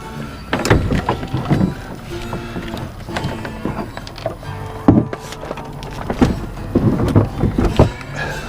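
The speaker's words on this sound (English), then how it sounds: "This little deck drops into the boat." A small handmade deck dropped into a Sun Dolphin America jon boat, giving a few hollow knocks and thumps as it settles, close and moderately loud with no one talking.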